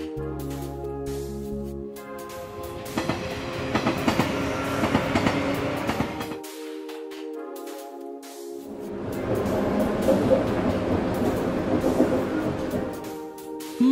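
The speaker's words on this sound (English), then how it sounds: "Monorail." A monorail runs in an animated children's cartoon about vehicles, heard as a loud, steady rolling rail rumble with clattering rhythm, briefly cutting to a quieter gap before the rushing noise swells again.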